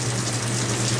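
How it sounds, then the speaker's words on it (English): A washing machine refilling with water for its rinse cycle at an outdoor laundromat, a steady close rushing gush of water with a low pump hum underneath, continuous and unbroken throughout. "this one's refilling for the rinse"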